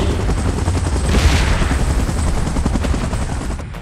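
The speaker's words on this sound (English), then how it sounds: "Chopper in position." A helicopter in the mobile game PUBG Mobile drones with a loud, continuous rotor chop, blended with rapid thudding bursts that sound like gunfire, steady throughout.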